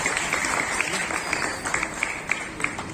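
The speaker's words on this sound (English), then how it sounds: "Can we have one huge big applause for all of them?" A school audience at an Independence Day celebration applauds its students, a continuous blur of clapping with a few sharper individual claps standing out near the end, and talk faintly mixed in.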